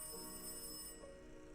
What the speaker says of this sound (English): The office phone rang.